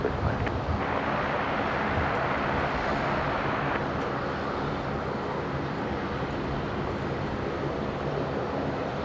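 A jet airliner lands on runway 19 left at Brisbane International Airport, heard as a broad, continuous roar of engine and rushing air, steady and fairly distant, with wind buffeting the microphone.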